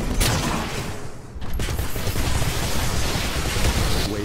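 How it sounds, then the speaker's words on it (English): Gunfire in the Titanfall video game during a training wave, a dense continuous barrage of shots and impacts at steady loudness with a brief dip partway through, no talk. "Can you please shoot a bit more?"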